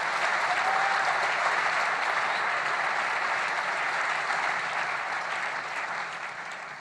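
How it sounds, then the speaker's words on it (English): A large audience applauds at a Nigerian event honouring a CNN hero nominee. The sustained clapping stays full and even for several seconds before slowly tapering off, with no voices over it. "I think they deserve a round of applause."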